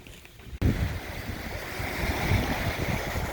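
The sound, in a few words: wind and waves at Point Farms beach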